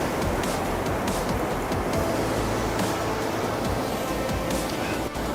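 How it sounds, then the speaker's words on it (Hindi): A fast, cold river rushes through Kumrat valley, Pakistan, as a steady loud roar of turbulent water that fills the scene without a break, with no talk. "पानी का जो बहाव है वो काफ़ी तेज़ है"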